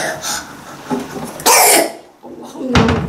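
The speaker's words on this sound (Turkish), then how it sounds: "Nasıl bir öksürmekti bu?" Several harsh coughs from a person who is ill, a scattered cluster near the start, then a loud burst in the middle and another hard cough at the end, close and alone in an indoor room.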